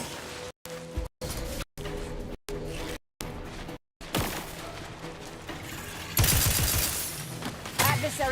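Gunfire in The Outer Worlds 2 arrives in choppy bursts broken by brief silent gaps, then swells into a denser, louder stretch of shots and impacts.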